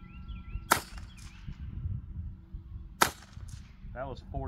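Two sharp reports from a Stevens 62 rifle firing 40 grain .22 LR rounds, spaced about two seconds apart, each a brief crack standing out above a low, steady background rumble.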